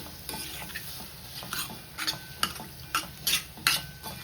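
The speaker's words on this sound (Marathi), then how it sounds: "सर्व मिक्स करून घेते छान मटाराला सर्व मसाला लावून घेऊया" Peas being stirred with spices and salt in a pan, a spoon scraping in a steady series of strokes that grow louder toward the end, with faint frying underneath.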